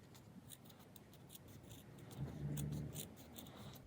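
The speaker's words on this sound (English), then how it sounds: "grab your scissors and we're just going to slice" Close, quiet snips and a slicing scrape of scissors cutting through felt, with light rustling around the cuts.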